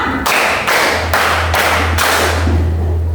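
A classroom of students claps in unison on counted beats: about five loud, evenly spaced group claps, each a sharp burst with a short decay. A steady low hum runs underneath.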